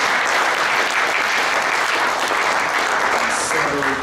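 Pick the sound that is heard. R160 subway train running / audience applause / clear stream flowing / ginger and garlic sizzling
audience applause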